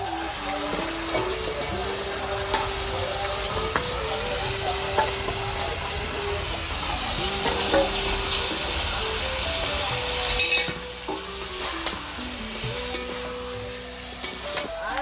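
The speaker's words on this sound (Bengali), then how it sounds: "মশলা তো রেডি করে এই যে দিয়ে দিয়েছি কড়াইয়ে, কষিয়ে নিচ্ছি মশলাটা" Spice paste frying and being stirred in a wok (kadai), with a steady sizzle under repeated scraping and clinking strokes throughout; a voice talks faintly in the background.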